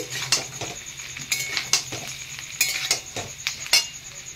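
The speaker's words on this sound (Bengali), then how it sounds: "নেওয়ার পরে দিয়ে দিলাম চিকেন পকোড়াগুলি। এবার ভালো করে মিক্স করে নিচ্ছি।" A metal spatula stirs fried chicken pakoras with onion and capsicum in a hot pan for chilli chicken, giving repeated loud clanks and scrapes in an uneven rhythm over a continuous frying sizzle, close up and with no voices.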